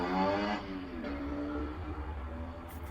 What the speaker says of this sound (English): So many noisy bits of traffic around.